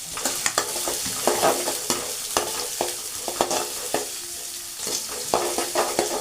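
Onion frying in a pan with ginger and chillies, a continuous sizzle punctuated by repeated scraping and knocking of a stirring spoon, close up and without talk.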